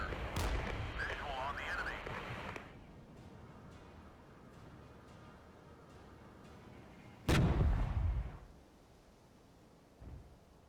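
Cannon fire in the Regiments war game: a heavy artillery boom lands mid-clip and decays over about a second, with a fainter thump near the end, set against a low battlefield rumble and muffled chatter early on.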